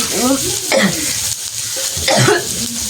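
Asafoetida and small items sizzle as they are sautéed and stirred in a hot pan, with bursts of frying crackle, scraping stirs, and a person coughing or murmuring nearby.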